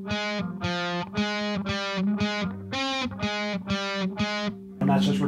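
Distorted electric guitar plays the riff from a song slowly, a string of about nine evenly spaced, chugging notes with brief gaps between them, ending in a short burst of noisier strumming.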